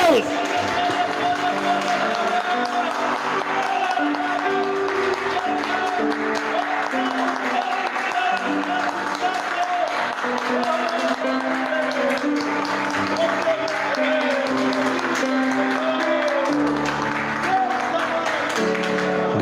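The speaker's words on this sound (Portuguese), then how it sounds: "Pode aplaudir" A congregation claps in a church service, a continuous, fairly loud wash of applause that runs beneath music and voices for the whole stretch.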